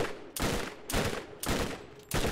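Four loud bursts of rapid gunfire from the Bone Shredder, a unique gun in the Borderlands video game, come in short evenly spaced volleys with brief gaps between them.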